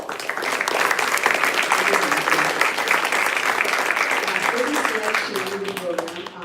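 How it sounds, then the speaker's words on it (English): An audience at a Golden Angels Day community event applauds heartily, steady clapping that swells and then thins as voices begin talking over it near the end. "Let's give a big round of applause for everything."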